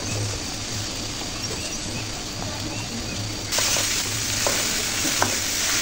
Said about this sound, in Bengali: সবজিগুলো ভালো করে নেড়ে চেড়ে দেবো মশলার সাথে